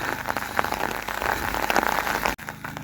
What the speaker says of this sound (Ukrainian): Біжу додому і вже дощ майже втихає.